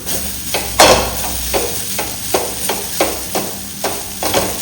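Grated coconut is heated in a pan for a Mangalore-style sprouts sukka, with a faint sizzle under a steady rhythm of spatula strokes scraping and tapping the pan about twice a second, close and clear.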